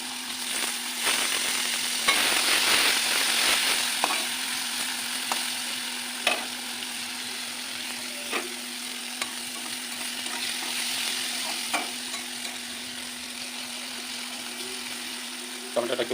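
Tomatoes sizzle and fry in a pan for an egg curry, a steady crackling hiss with a constant hum beneath and occasional sharp clicks of stirring, loud and close throughout.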